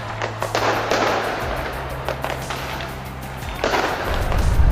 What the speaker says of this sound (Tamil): புத்தாண்டை வரவேற்ற மக்கள் வான வேடிக்கைகளுடன் புத்தாண்டை வரவேற்று கொண்டாடி மகிழ்ந்தனர்